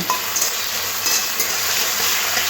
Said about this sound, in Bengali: সামান্য একটু লঙ্কার গুঁড়ো খুব ভালো করে মিশিয়ে নেব